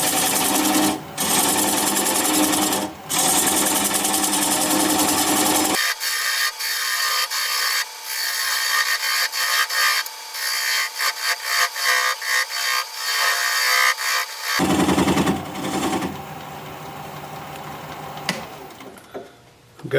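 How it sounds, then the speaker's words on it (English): A 3/8 inch bowl gouge cuts into walnut spinning on a lathe at about 600 RPM, producing a loud, steady scraping whir with a shifting tone and a few sharp catches. "I'm going to grab a 3/8 inch bowl gouge and commence removing that tenon."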